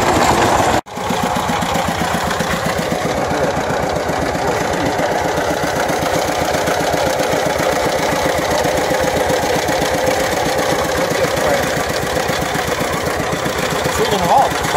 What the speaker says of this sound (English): Tightens up the belt and engages the ball mill.